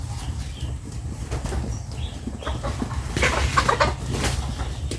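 Backyard chickens cluck and flap about just before feeding, with a low steady hum of wind or noise underneath and a busier burst of bird sounds midway.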